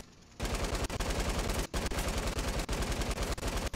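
Rapid automatic gunfire from the Fortnite video game rattles almost continuously in loud dense bursts, with a few brief gaps between volleys and no voices over it.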